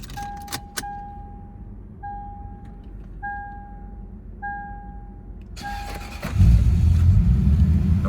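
A 2001 Lexus IS400 with a 1UZFE 4.0 V8 and automatic transmission: repeated ignition chimes and a brief jingle of keys, then the starter cranks and the V8 catches into a loud, steady idle close by.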